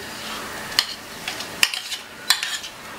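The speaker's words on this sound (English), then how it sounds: "so add it all in and give it a quick stir let it mix along with the onions" A spoon stirs coarse chopped tomato into onions in a hot pan for pizza sauce, giving a few sharp scraping clacks against the pan over a soft sizzle, with no talking.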